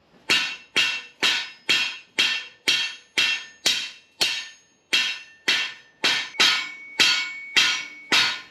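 Hammer blows setting rivets while assembling a hand-forged Victorian workshop jib crane, about fifteen loud, evenly spaced ringing strikes on metal.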